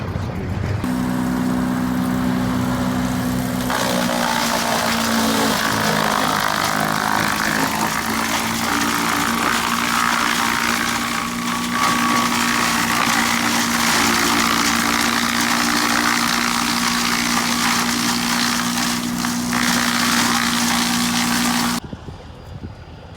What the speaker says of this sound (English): Got the wood chipper. Chip it right in.